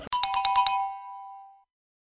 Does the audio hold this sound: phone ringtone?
yes